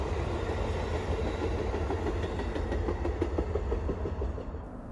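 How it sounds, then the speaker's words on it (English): A southbound Amtrak Northeast Regional train rolls past on the double-track Long Bridge over the Potomac in Washington DC, a loud continuous roar with rhythmic clickety-clack of wheels over rail joints. "My first train this morning was a southbound Amtrak Northeast Regional."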